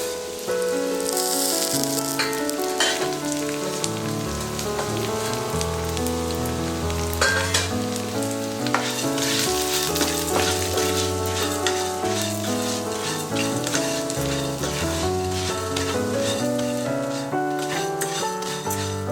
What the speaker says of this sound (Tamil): கெட்டி அவலை எடுத்துக்கோங்க அதே நெய்யில் வறுத்துக்கலாம்